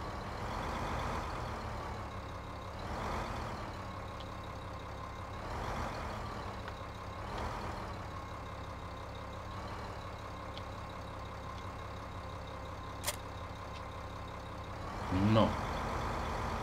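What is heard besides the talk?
Ursus tractor engine in video game Farming Simulator 15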